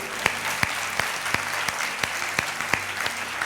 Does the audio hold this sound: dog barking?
no